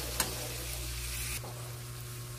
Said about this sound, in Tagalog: Lutoy lang natin ang kaunti ang tokwa guys.